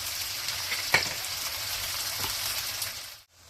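Chopped onion sizzles steadily in hot oil in a pan while a fish curry is cooked, with a brief clink from stirring before the frying cuts off near the end.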